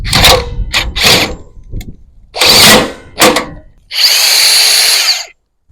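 Makita XGT 40V GWT01Z 3/4-inch cordless impact wrench running on trailer bolts: several loud, close bursts of rattling hammering, the last a longer, steady whirring run before it stops.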